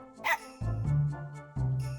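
Dog barking in the video game MegaMan Legends, one loud yelp followed by deeper growling bursts layered over a low, sustained game music tone.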